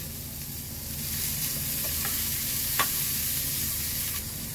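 Red capsicum and green chili sautéing in a pan give off a steady bright sizzle, with a few soft stirring scrapes mixed in, close and unbroken throughout.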